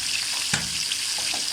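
Chicken karahi frying in a pan, a close, steady crackling sizzle with one brief stir-like clink partway through.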